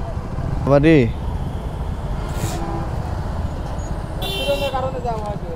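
Highway traffic jam near a toll plaza on the road from Dhaka to Rangpur, heard from a motorcycle: a rising horn blast, then a couple of shorter honks over a low engine and road rumble, with people talking nearby.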